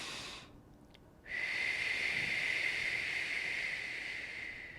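A breathing exercise exhale voiced as a sustained high tone: a soft breathy rush with a steady whistling pitch, close and fairly quiet, holding evenly for several seconds after a brief pause.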